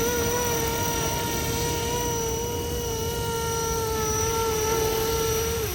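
A small RC helicopter, a FLISHRC Roban EC-145 V2, whines continuously at a steady high pitch in flight, its motor droning without a break for several seconds.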